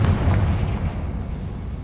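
A Confringo spell explodes in the Hogwarts Legacy video game, a loud, deep booming blast with a rumbling tail that decays gradually over about two seconds.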